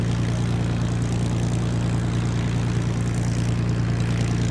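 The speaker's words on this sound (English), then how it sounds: "When the engine is running satisfactorily, release the booster coil button, or switch off the starting magneto if fitted" A Spitfire Mk V aircraft's piston engine idles steadily just after start-up, a loud, continuous propeller drone that holds an even pitch throughout, with no voices.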